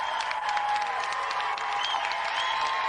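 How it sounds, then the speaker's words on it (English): Studio audience applause for two celebrity guests on a TV games show, a steady dense clapping that runs without a break at an even level for the whole stretch. "let's have another round of applause for our two celebrity guests"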